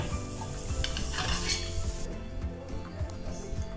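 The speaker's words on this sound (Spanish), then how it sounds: "En un wok bien caliente agregamos un poco de aceite, vamos a tirar unos calabacines con unas berenjenas y vamos a saltearlo." Zucchini and eggplant sauté in a hot oiled wok, a steady loud sizzle mixed with the scrape and clatter of a utensil stirring against the metal, close and continuous.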